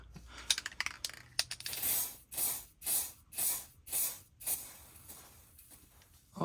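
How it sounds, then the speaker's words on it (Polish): Aerosol spray can spraying primer onto a Warhammer miniature, several loud hissing bursts of about half a second each in an uneven rhythm, close up and preceded by small clicks and taps. "się zaciął spray"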